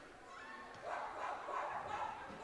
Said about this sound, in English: there's that barking again.